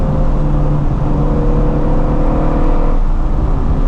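A Mustang GT350R sports car engine revs hard with a loud, steady droning roar, briefly dipping in pitch before climbing again, close and dominant.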